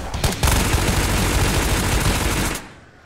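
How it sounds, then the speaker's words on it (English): Automatic gunfire from the video game Ghosts of Tabor empties a whole magazine in one loud, dense burst of rapid shots lasting over two seconds, then trailing off. "Emptied an entire mag in that guy."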